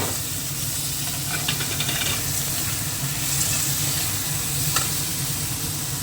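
Steady sizzling of fried potatoes, peas, tomato and green chillies in a pan, with occasional stirring scrapes, close and continuous with no talking.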